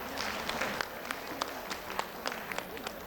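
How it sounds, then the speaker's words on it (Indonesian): Audience applause at an Indonesian women entrepreneurs' workshop: steady, moderately quiet clapping from a crowd with scattered sharper claps standing out, continuous across the moment with no talk over it. "Tepuk tangan untuk Ibu Agatha."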